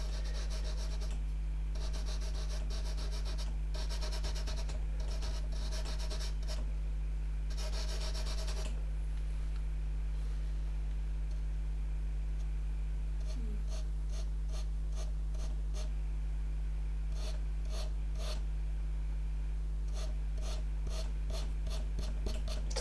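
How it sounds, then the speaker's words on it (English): Soft pastel rubbed and stroked across paper for a portrait, with bursts of dry scratchy strokes, pauses, then quick rhythmic short marks, close and fairly quiet. "So the trick with pastel really is to get a few layers on the paper before things start to blend and mix nicely."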